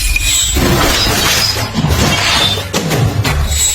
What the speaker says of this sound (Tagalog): Hindi ko akalaing nabasag mo ang proteksyon ko.